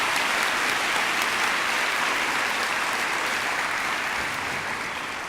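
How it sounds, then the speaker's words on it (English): An audience at a vigil for a school shooting victim gives sustained applause honoring first responders, a loud, dense, unbroken clapping that tapers slightly near the end. "So can we get another round of applause for them?"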